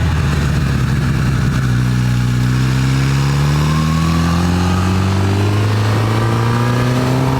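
A Honda CB1000R motorcycle engine pulls hard through the rev range on a road in the Eifel, its steady tone rising continuously over several seconds, loud and close with constant wind rush and no speech.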